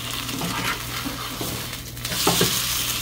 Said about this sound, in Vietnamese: Cô là bỏ vô chiên.